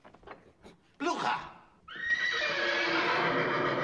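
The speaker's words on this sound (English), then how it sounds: "Listen to the horses, that's all I'm saying." Horses in Young Frankenstein (1974) give two loud neighs, a brief whinny followed by a longer sustained one, after a few soft opening sounds.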